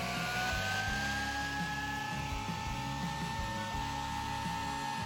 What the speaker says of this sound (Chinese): 吸尘器吸马蜂可能威力太小，但是拿来吸蜜蜂应该专业对口